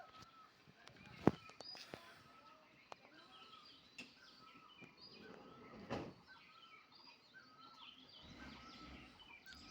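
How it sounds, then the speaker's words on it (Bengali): Faint birds chirp outside a balcony overlooking a mountain view, scattered light calls in a quiet room with a few sharp knocks and a louder rustle midway. "হালকা পাখির ডাক আছে"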